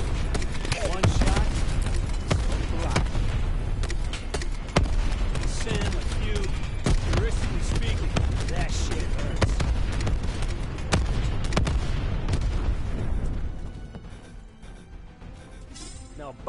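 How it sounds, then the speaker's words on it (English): Heavy War Machine grenade launcher blasts and gunfire in a PS4 shooter game, dense and loud with repeated booms for most of the stretch before thinning out, with a voice talking over them. "The war machine has a huge blast radius."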